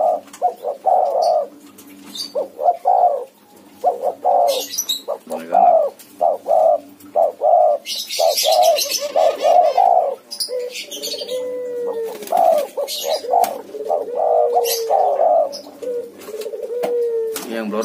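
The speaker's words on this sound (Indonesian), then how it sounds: "Cuma karena masih muda ngebekur gitu." Young turtledoves, one variegated and one white, coo repeatedly in low rhythmic phrases close by, with faint chirps and brief wing flutters between the calls.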